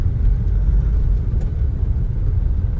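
A Nissan Evalia fitted with a Blackcore device gives a steady low engine rumble and road hum from inside the car as it pulls under throttle, fairly loud and even, with no talking.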